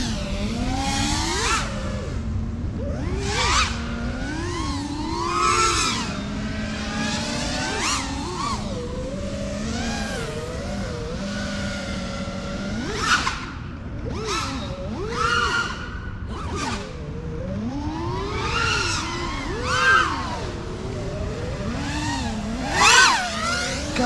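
A homemade FPV racing drone capable of about 80 mph whines through freestyle flying outdoors, its motors rising and falling in rapid pitch sweeps and sharp whooshing surges, close and loud throughout, with no talk.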